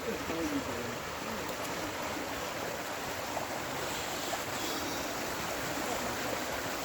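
Small side stream, Ravedon Brook, flows beneath a little footbridge on a countryside path, a steady broadband rush of moving water that stays even throughout.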